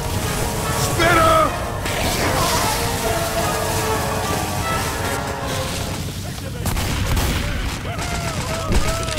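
Gunfire rattles through a Left 4 Dead 2 match, a dense run of overlapping shots and bursts lasting the whole stretch, with people shouting over the shooting.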